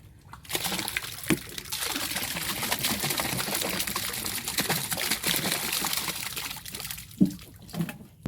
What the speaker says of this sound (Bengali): ভাত খাবারটাও ঢেলে দেবো এর সঙ্গে, মাছরা খাবে বলে